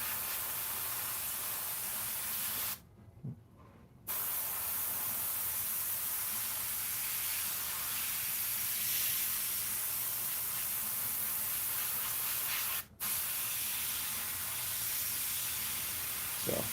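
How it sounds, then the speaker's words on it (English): Airbrush hissing out a steady light mist of paint over a Darkseid maquette during repainting, a continuous soft spray broken by a brief pause and a short stop, with no voices. "So basically just starting off with a light mist, and then I'll go back and do a little bit of a heavier coat."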